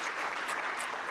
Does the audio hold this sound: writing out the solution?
no